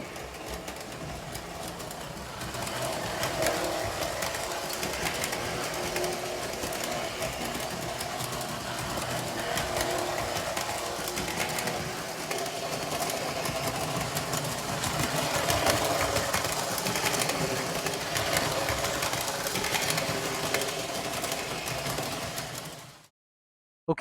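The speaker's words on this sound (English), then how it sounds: "Now we're going to go ahead and test the locomotive on the track to see if it'll run again." An O gauge model locomotive runs on its track with a steady mechanical whir and hum for about twenty seconds, then stops abruptly. No talking is heard.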